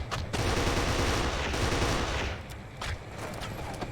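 Sustained automatic gunfire from the video game Kane & Lynch 2: Dog Days, loud and continuous for about two seconds, then sparser bursts with a few sharp isolated shots; no talking.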